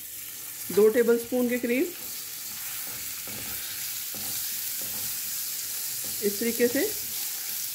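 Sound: unsalted butter sizzling with caramelizing sugar

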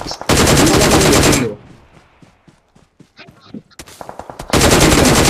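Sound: gunfire in video game Battlegrounds Mobile India

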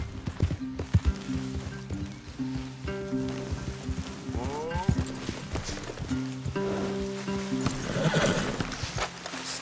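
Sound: horses neighing in video game Red Dead Redemption 2

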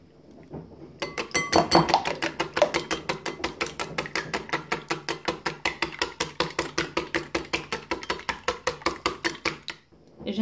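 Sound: mixing ingredients in a bowl, adding oil, pizza muffin batter

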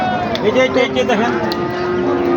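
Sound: cattle mooing at a cattle market

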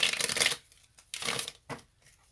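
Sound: shuffling tarot cards

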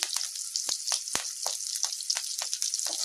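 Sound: green chillies and curry leaves sautéing in a pan

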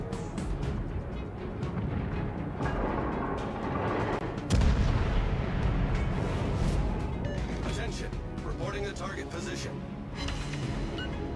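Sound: battleship guns firing in video game World of Warships

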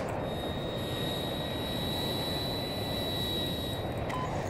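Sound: fighter jet engine in video game Battlefield 2042

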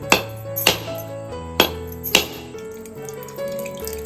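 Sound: coconut being cracked open

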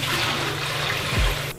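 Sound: old aquarium water being dumped out

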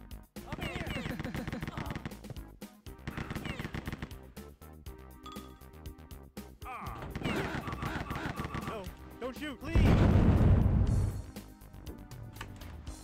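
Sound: rocket launcher explosions in video game Rise of the Triad

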